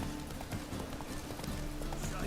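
Horse hooves trotting in a steady clip-clop rhythm during riding in The Witcher 3 video game, continuous and fairly loud under a constant bed of game noise.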